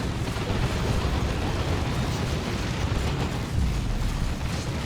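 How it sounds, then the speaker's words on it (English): Plasma cannon shots and explosions in the video game Dawn of War 2, a dense continuous rumble of booms and bursts, loud and unbroken, with no talk over it. "Plasma cannon shots."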